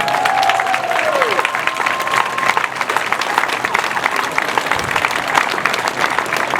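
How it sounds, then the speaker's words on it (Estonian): An outdoor crowd on a Tallinn city square applauds, with loud, dense, continuous clapping throughout and a brief voice heard over it near the start. "veel üht aplausi Silve Andre Hinn"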